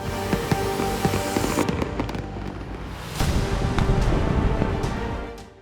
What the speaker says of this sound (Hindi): दिवाली में आतिशबाजी की ये तस्वीरें देश भर में देखने को नहीं मिलेंगी।